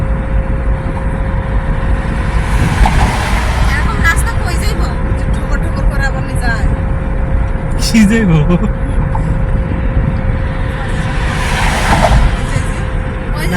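A car drives along the Dhaka Elevated Expressway. Under a constant road rumble, a few dull thumps mark the tyres crossing the girder joints at spaced intervals, while people talk inside the car.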